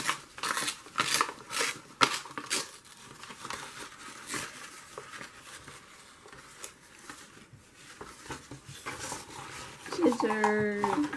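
Scissors snipping through a thick heavy-duty paper gift bag amid crinkling and rustling, close up, with a louder scraping clatter near the end.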